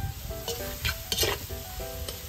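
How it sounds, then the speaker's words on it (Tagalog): Radish sautéing in a frying pan sizzles steadily, with a utensil stirring and scraping through it in quick, uneven strokes close to the microphone. "Natin itong malabanos. Gigisa na natin."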